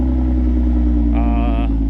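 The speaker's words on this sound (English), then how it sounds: "first time starting it up today. It'll eventually idle down and you'll hear the difference" A supercharged Audi A6 3.0T engine starting, then idling loudly and steadily with a deep rumble, and a brief higher supercharger whine rising over it partway through.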